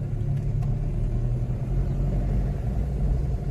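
A car engine rumbles steadily at low pitch while driving during a driving lesson, close and continuous for a few seconds with no talking.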